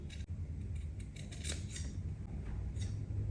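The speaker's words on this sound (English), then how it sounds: "lift it and cut on that line. Cut carefully" Scissors cut along a marked line in fabric while a V-neck boubou is made, giving a series of soft crisp snips at an uneven pace over a quiet room hum, close by with no talk.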